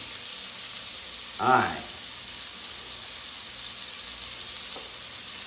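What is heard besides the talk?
beef roast searing in a pan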